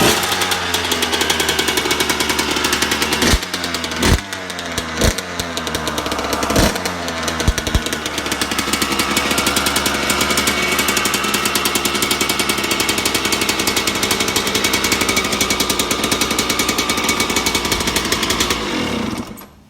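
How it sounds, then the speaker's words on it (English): A 2000 Suzuki RM125 two-stroke dirt bike kicked over a few times, then catching and running in a loud, close, rattling buzz that holds steady before cutting off. "I'm gonna give the bike a quick start up."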